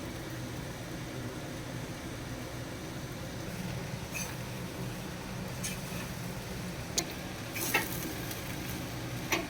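Puffed rice tossed into a pan of fried onions gives a faint, continuous sizzle, with occasional light scrapes and clicks of stirring near the end.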